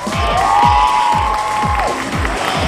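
A studio audience at a Chinese TV variety show cheers and applauds as a small child performer is welcomed on stage, a loud, continuous wash of clapping and shouts over rhythmic music.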